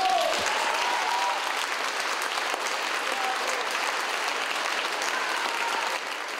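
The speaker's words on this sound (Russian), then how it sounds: "зал, казалось, не дышал, а с последним аккордом просто взорвался аплодисментами" Dense, sustained applause from a concert hall audience after the final chord of a Rachmaninoff concerto, loud and steady for the whole stretch with no voices standing out.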